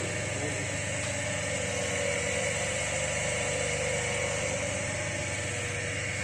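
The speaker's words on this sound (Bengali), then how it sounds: "এই সুইচের দ্বারা মোটরকে চালিত করা চালু হয়ে গেছে মোটর অন হয়ে গেছে" An electric motor switched on through a DOL starter in an electrician training workshop, running with a steady, loud hum and drone throughout.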